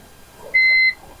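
Multimeter in buzzer continuity mode probing a Pixel 4 XL board line with a short circuit: a single clean electronic beep lasting about a third of a second over quiet background.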